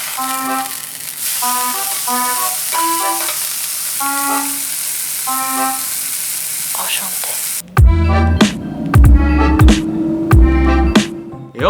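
A burger patty sizzles and fries inside a running air fryer, with a steady hiss and tonal hum for most of the stretch, then heavier, louder low bursts near the end.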